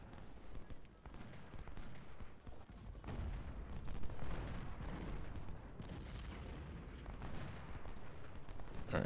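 Musket volleys and artillery fire rumble through a Civil War battle in the Ultimate General: Civil War video game at Fredericksburg, a dense, continuous roar of gunfire and booms at low level.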